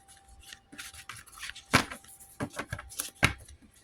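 Tarot cards being shuffled by hand, a quick rubbing and riffling patter with a few sharper snaps, close and fairly quiet.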